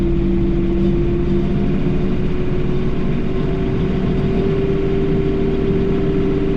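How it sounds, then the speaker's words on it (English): A John Deere 3046r compact tractor runs steadily while powering a brush hog mower, its close, constant engine drone carrying a strong mechanical hum with no breaks, and nobody speaking. "I'm gonna throttle up manually, engage the brush hog, and give it some more throttle."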